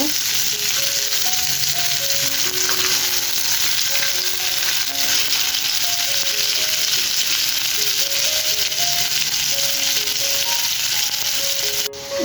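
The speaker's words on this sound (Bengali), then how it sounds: "এই তো এখন উল্টিয়ে পাল্টিয়ে মাছগুলো ভেজে নেব" Pieces of fish fry in a pan on a home stove, a loud, continuous crackling sizzle that runs without pause, ending with a brief clatter.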